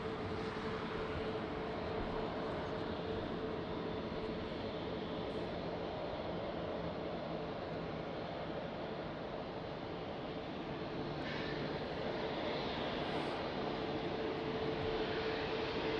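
Jet airliner engines at Lisbon Airport on the runway in rain, a steady broad roar holding at constant loudness throughout, with a faint tonal hum running beneath and no talk.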